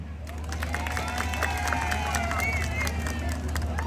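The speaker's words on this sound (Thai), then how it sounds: "ขอเสียงปรบมือให้คุณแม่สมและลูกหลานอีกครั้งหนึ่งครับ" Crowd at a stage show at a school in rural Thailand, clapping and cheering loudly and continuously beneath amplified music, with a low steady hum and voices mixed into the din.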